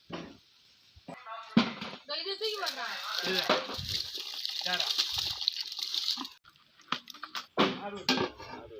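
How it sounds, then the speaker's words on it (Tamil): Water poured into rice in a pot for home-made chicken dum biryani, a gushing splash lasting several seconds with pot clatter, while people talk before and after. "அரைப்படி இன்னும் 5 படி தண்ணி ஊற்றணும்."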